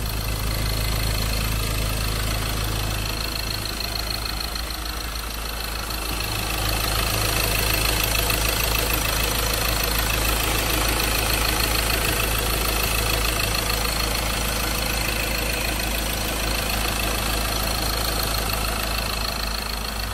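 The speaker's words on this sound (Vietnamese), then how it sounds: "đây là tiếng động cơ đang hoạt động đây" A 2017 Ford Ranger XLS with an automatic gearbox and 2.2-litre diesel idles steadily, a smooth, continuous low engine hum that stays even and close for the whole stretch, with no voices.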